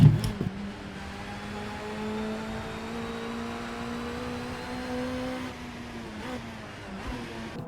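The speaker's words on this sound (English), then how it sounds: "But yeah, this is a really fun car just to kind of be in." A BTCC Volvo 850R Estate race car engine at Oulton Park, a steady droning note held for several seconds that shifts briefly near the end, with no talk.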